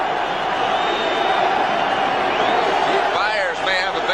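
A large crowd roars steadily at an outdoor NFL football stadium in Philadelphia, Eagles hosting the Washington Redskins, with sustained cheering, whistles and shouts rising near the end while a commentator talks over it.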